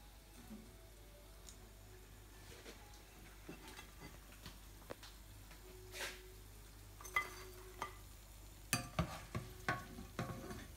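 Okra frying in oil in a home kitchen: a faint, steady sizzle with soft stirring and a few sharp clicks of a utensil against the pan toward the end.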